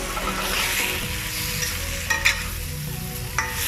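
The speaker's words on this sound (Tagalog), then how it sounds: "Igigisa ulit natin siya kasama ang ibang ingredients." Pinakbet vegetables and meat sauté in a pan, sizzling steadily while a utensil stirs and scrapes with a few sharp knocks, no voices.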